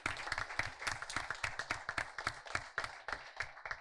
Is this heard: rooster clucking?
no